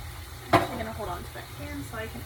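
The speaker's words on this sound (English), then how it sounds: "Alright, so I'm just going to mix these in here." Ingredients including diced tomatoes being stirred in a hot kitchen pan, with a soft sizzle throughout and one sharp scrape or clack of a utensil early on, close and moderately quiet.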